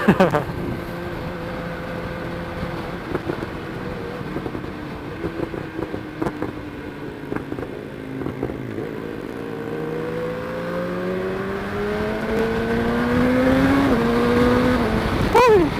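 A 2020 BMW S1000R motorcycle accelerates hard, its engine note climbing in rising harmonic sweeps that grow louder toward the end, with steady wind rush throughout.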